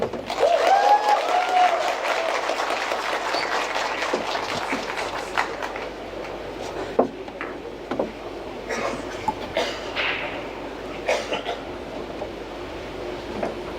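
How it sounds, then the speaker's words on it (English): A crowd cheers and applauds loudly in the arena at a Vietnamese player's men's 10-ball world championship pool match, the roar peaking at the start and fading into scattered claps and murmurs. "when you hear a big cheer like that"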